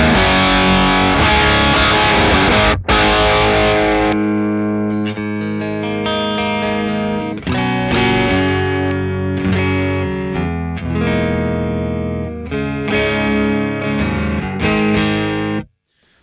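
A distorted electric guitar on a low-gain crunch tone plays crunchy chords and riffs, loud and close, through a Walrus Audio Fathom reverb pedal, a wash of reverb trailing each strum before it cuts off.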